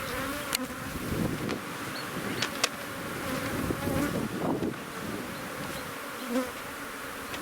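Honey bees swarm around an open hive, a dense continuous buzzing hum close by with occasional sharper passes of individual bees and faint wind.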